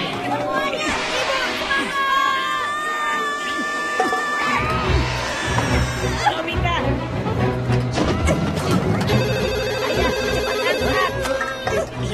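A cartoon telephone rings in repeated bursts amid busy animated-scene sounds, with characters talking and music underneath.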